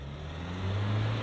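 A 2023 Ford Everest with a bi-turbo four-cylinder diesel engine accelerates in reverse, giving a steady low engine drone that swells a little louder partway through.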